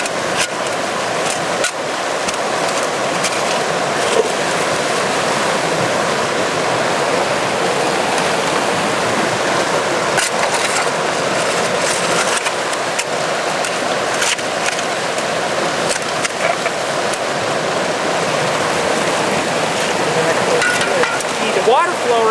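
Steady broadband rush of flowing water in a stream during small-scale mining work, continuous and fairly loud, with a few faint knocks and no talk.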